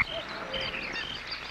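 Frogs croaking in a steady, faint chorus of trilling calls that carry on without a break, soft and somewhat distant, with no voices.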